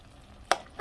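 A cabbage and potato curry is stirred in a pan, giving two short scraping clinks of a spoon against metal over a faint background of quiet cooking.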